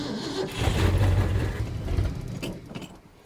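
A car engine rumbles low and steady close by, swelling after a moment and then easing off toward the end.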